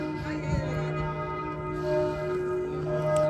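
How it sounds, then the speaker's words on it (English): Church bells ring out in Budapest, their long sustained tones overlapping and humming steadily at moderate distance, with no talking. "the bells are going off here as well"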